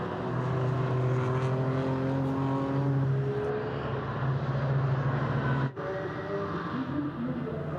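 The 187 BMW of FK Performance Motorsport, an NLS endurance race car, roars through the fast section of the Grand Prix circuit with a loud sustained engine drone that shifts pitch.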